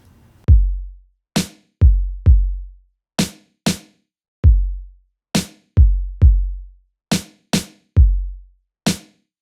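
A drum machine plays a syncopated kick and snare pattern: deep booming kicks alternate with crisp snare hits in a sparse, clean groove of about fifteen strikes, each standing alone with silence between.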